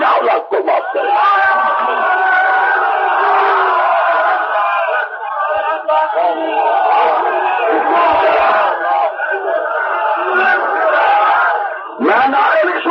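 A large crowd at a religious rally roars out slogans in a loud, sustained mass of voices that barely dips for nearly thirteen seconds, swelling again near the end.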